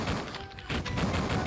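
Gunfire from the video game Duke Nukem 3D crackles in a fairly dense burst of shots, set against a muffled, noisy game background.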